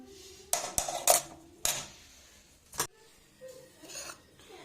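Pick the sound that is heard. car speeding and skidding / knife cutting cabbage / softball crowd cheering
knife cutting cabbage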